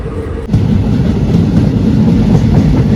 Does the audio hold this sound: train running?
yes